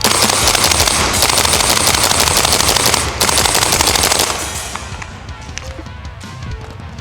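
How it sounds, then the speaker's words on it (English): Rapid bursts of BB shots from a gas blowback 416 airsoft rifle, loud and close, firing continuously for about four seconds before the magazine runs dry and the action clicks empty. "And there we are, all out of BBs on the gas blowback 416."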